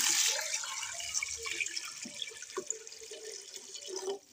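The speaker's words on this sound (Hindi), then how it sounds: "अब इसमें ऐड करेंगे पानी।" Water pours into a cooking pot for chicken hot and sour soup, a steady trickling, splashing flow that is close and fairly loud, easing off near the end.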